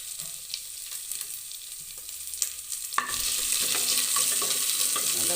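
Onion and curry leaves sauté in a pan, a steady sizzle that swells louder partway through, with scattered scrapes from a spoon stirring close by.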